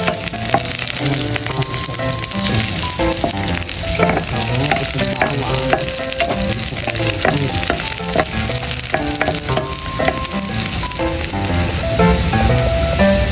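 Chayote sautéing with garlic and moringa leaves in a pan gives a loud, steady sizzle and frying hiss, broken by frequent scraping and clinking stirs, with no talking.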